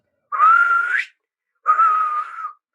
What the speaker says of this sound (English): we've been hearing the opening whistle tune of the film